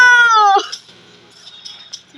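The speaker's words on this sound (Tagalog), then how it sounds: "Meow! Meow! Yan si Masha." A single loud, close cat meow from the video game Flavor Frenzy slides downward for about half a second, followed by near silence with a few faint clicks.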